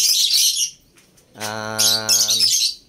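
Pet African lovebirds chirp and chatter nearby in shrill bursts, with a sustained harmonic call in the middle between the busier twittering.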